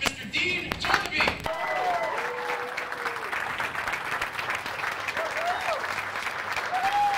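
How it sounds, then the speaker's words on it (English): A standing audience at a motivational talk breaks into sustained, dense applause, with a brief louder burst near the start and a voice calling out over the clapping that carries on steadily to the end. "everyone stand up and give a big round of applause for Mr. Dean Tornabene"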